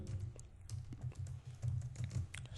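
Quiet, steady typing of C code on a computer keyboard, soft rapid key clicks close by with no speech.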